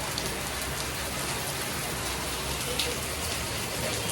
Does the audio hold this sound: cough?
no